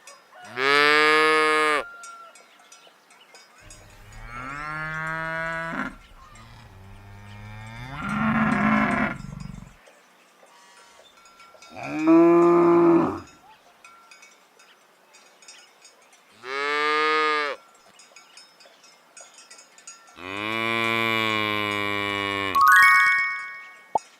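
Cow mooing on a farm, six long, loud, drawn-out moos spaced apart by quiet pauses, close and alone.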